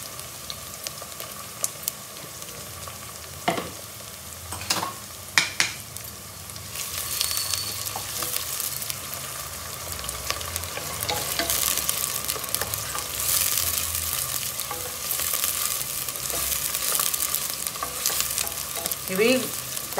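Four sliced onions and four green chillies frying in a pan, a steady crackling sizzle with spatula scrapes and knocks, quieter at first and growing denser, close up with no speech.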